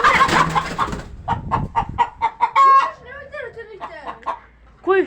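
A hen clucks repeatedly in short, rhythmic bursts at close range, following and overlapping people talking in a home setting, with a longer squawk near the end.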